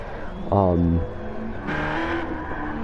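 BMW and Subaru race cars circulate at Spa in a racing video game, engines rising and falling in pitch as they pass, heard at moderate level beneath a commentator's voice.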